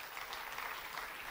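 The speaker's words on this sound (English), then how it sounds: "a big round of applause for all that you guys have done" An audience at a live corporate event applauds, a dense, steady wash of clapping from many hands filling the room for a short stretch with no talk over it.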